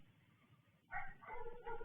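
A dog barks loudly and close after a moment of quiet, followed by a short run of yippy barks.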